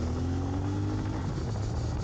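A CFMoto 450MT motorcycle engine drones steadily with a low, even hum while riding, close and constant, with no voices.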